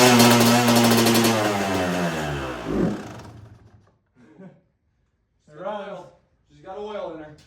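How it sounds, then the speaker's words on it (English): A Kawasaki KX250 dirt bike engine firing up and revving loudly nearby with a harsh, buzzing two-stroke rasp, then dropping away as it dies, followed by people talking. "Big moment on the KX250. See if she will start."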